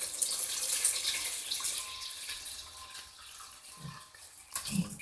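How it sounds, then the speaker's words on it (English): Warm water pours into a basin, a broad, loud rushing splash at first that gradually thins and quiets, followed by a couple of small sloshes near the end. "I'm going to pour my water,"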